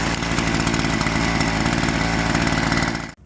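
Parkside Performance PPBS 3 A1 petrol brush cutter engine running steadily after an electric start: a loud, close, buzzing two-stroke drone with a rapid pulsing rhythm, ending abruptly as it cuts out.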